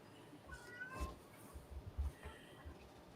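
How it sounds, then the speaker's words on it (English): Indoor cat meowing and crying, a few faint drawn-out meows against a low rumbling background with a quiet voice. "Do I hear a cat? Yeah, he's in here crying up the storm."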